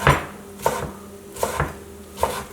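A knife cutting through a leftover roasted cabbage steak with nutritional yeast dressing on a board, four crisp close chops spaced evenly apart, with no talking.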